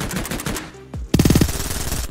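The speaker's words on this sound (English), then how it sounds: "That was a lot of bullets in a very short amount of time" Automatic weapons hammer in the shooter game Mutant Ops, loud close bursts with a short stutter of rounds, a brief gap, then a tight rapid volley of shots.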